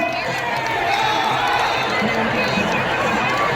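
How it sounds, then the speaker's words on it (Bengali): At a political rally in Gazole, Malda, a large crowd welcoming Mamata Banerjee creates a loud, dense, continuous roar of cheering and clapping, with voices mixed into it. "সবাই মিলে জোরে হাততালি দিয়ে দিদিকে স্বাগত জানান"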